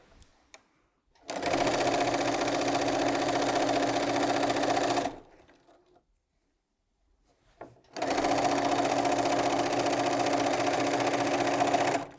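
A sewing machine stitches quilt pieces from a layer cake together in two loud, steady bursts of rapid whirring, each a few seconds long, separated by a quiet pause.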